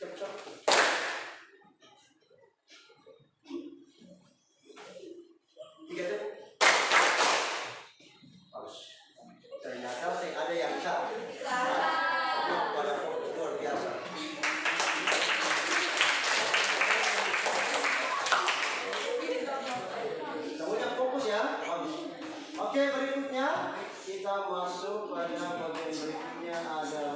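A classroom of students claps out short patterned bursts of one, three and two claps on a teacher's cue, with sharp, loud hand claps separated by pauses. A teacher talks between the sets, then voices fill the rest of the room.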